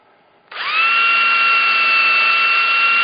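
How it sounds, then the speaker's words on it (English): A power drill spins up abruptly and then holds a steady low-speed whine while tapping threads into plastic with a lubricated bit, a close, loud, sustained tone with no talk. "Run the drill at low speed"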